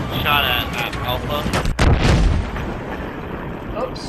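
Gunfire and a heavy boom from the video game Battlefield 3, with dense rapid shots throughout and a loud burst near the middle, under a continuous noisy battle bed.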